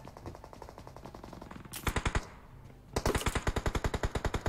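Rapid automatic gunfire in the mobile battle royale game PUBG Mobile, loud close bursts of evenly spaced shots, a short burst, a brief pause, then a longer sustained string of rounds.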